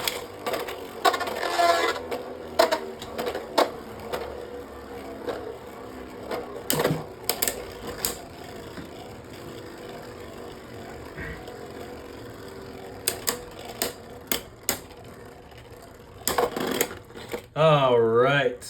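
Gold Beyblade Burst Belfyre tops with shot and S gear clatter and clack in a stadium, sharp repeated impacts and rattling bursts scattered throughout, with a whirring spin-down near the end.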